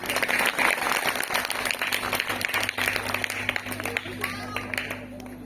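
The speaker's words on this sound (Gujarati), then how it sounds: "આપણે તાળીઓ પાડીશું" An audience at a school prize-distribution ceremony honouring top students breaks into sustained clapping, dense and fairly loud throughout, with voices murmuring underneath.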